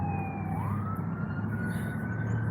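An ambulance siren wails as it passes along a street, a steady tone that rises in pitch partway through over a low rumble of traffic, moderately loud and with no voices.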